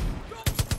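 In Far Cry 5, a shotgun fires four loud, evenly spaced blasts in quick succession after a brief muddled lead-in.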